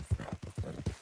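Horse hooves clip-clop in Red Dead Redemption 2, three or four heavy, evenly spaced thuds at close range within about a second, with no voices over them.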